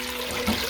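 Water pours into a pot for twelve cups while tofu, zucchini, peppers and onion are prepared for a homemade meal, a brief close rushing splash.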